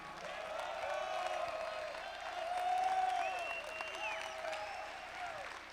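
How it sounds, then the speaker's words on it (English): An audience at a conference stands and claps steadily, a dense, sustained wash of applause with a voice speaking over it throughout. "Somebody stand up and start clapping like we got power in this room."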